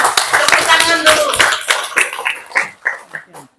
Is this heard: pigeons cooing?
no